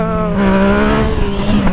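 Yamaha MT-09 motorcycle engine accelerating up close, a loud, sustained, buzzing engine note that climbs slightly in pitch over nearly two seconds, with no talk.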